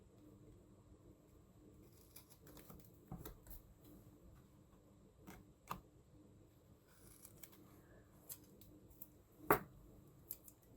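Several sharp, isolated snips of scissors cut through scrap paper for a collage against a quiet room background, spaced irregularly with pauses between.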